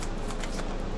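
A deck of tarot cards being shuffled, a brisk continuous riffling flutter of card edges heard close and alone for about a second.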